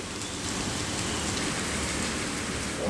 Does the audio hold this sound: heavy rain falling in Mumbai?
yes